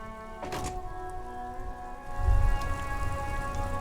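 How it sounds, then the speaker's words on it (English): Rain patters steadily in the video game Disco Elysium over a low ambient drone with sustained tonal hum, a soft thunk early on and a deeper rumble midway. "Droplets of rain fall on the white on blue police livery of the motor carriage"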